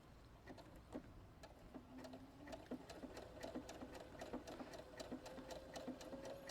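A Brother Innov-is NS80e sewing machine runs along a fabric edge, its needle ticking in a brisk, even rhythm with a faint motor whine underneath, close and moderately quiet with no talking.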